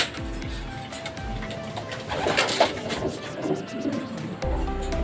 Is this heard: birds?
yes